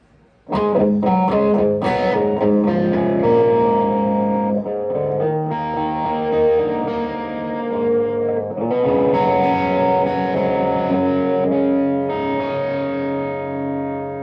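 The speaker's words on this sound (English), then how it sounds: "Let's try the kind of classic Leslie emulation sound with the slower speed with some distortion on this guitar." Electric guitar played through a TC Electronic Corona Mini chorus pedal set to a slow Leslie-style rotary emulation with distortion: a few picked notes, then loud sustained swirling chords that ring out, restrike and shimmer without any talk.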